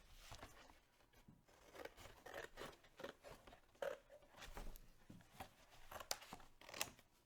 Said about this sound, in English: So I'm going to cut those ones off.